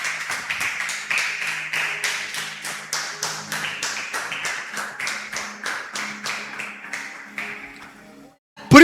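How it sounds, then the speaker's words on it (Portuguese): Congregation in a church clapping in unison, a steady rhythmic beat of claps about twice per second continuing for roughly eight seconds before stopping. "Você pode dar uma salva de palmas ao Senhor?"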